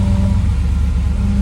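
A failing power steering pump on a Dually truck drones loudly and steadily up close, a strained low whine blended with engine rumble through a short burst, with no talking.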